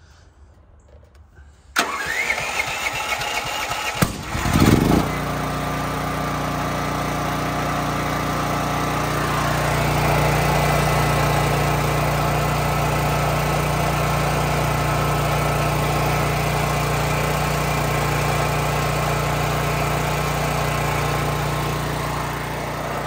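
A conventional gas generator, used here to charge an EcoFlow Delta Pro Ultra, cranks with a brief pull-start rattle and catches into a loud, steady engine drone that runs on evenly at close range, with no talk.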